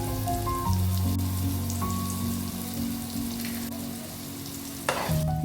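Cumin, chopped curry leaves and a medium onion frying in a pan for Gobi Manchurian, a soft steady sizzle and crackle with faint stirring, set against a low background hum.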